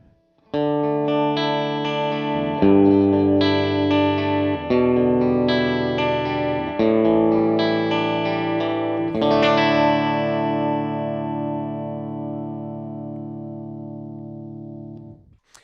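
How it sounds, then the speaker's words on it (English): Guitar chords through an Empress Nebulus chorus-flanger pedal ring out with a warmer, darker tone, several strummed changes before a final chord slowly decays into silence. "Now, let's warm up that tone sound a little bit."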